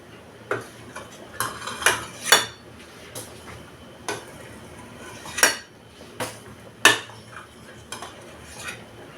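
A metal spoon clinks and scrapes against a pot while skimming foam off boiling buckwheat, giving irregular sharp taps and scrapes spread through the stretch with a low simmering background and no talk.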